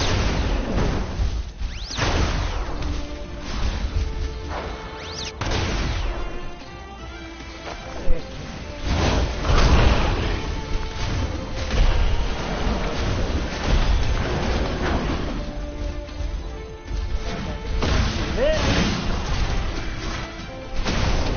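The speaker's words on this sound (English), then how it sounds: "explosion punch!" Explosive punch attacks from the mech brawler game Override Mech City Brawl boom and crash in loud bursts over a dense, churning game soundtrack, with no clear voices.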